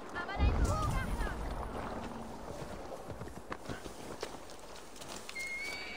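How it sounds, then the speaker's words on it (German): Horse in the Viking video game Assassin's Creed Valhalla, with a snort and whinny near the start followed by faint hoof clip-clops, set against a quiet ambient backdrop. "Ich glaube, ich sehe das Pferd."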